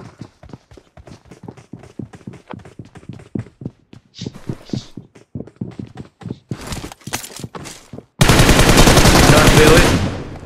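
Rapid bursts of gunfire crackle in quick succession in the mobile game BGMI (PUBG Mobile), then a sustained loud roar of noise at the end; no talking.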